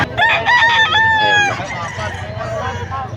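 Many chickens and roosters at a Bocaue, Bulacan market, a loud nearby crow with strong harmonics for over a second, then fainter overlapping crowing and clucking amid crowd noise and talk.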